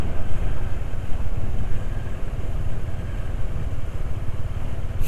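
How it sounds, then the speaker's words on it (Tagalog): Strong, cold wind roars on the Ilocos Norte to Apayao mountain road during a ride, a loud continuous buffeting rumble with steady gusty texture throughout and no talking. "At saka yung hangin lumalakas na banda rito"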